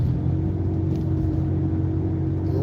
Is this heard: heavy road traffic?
yes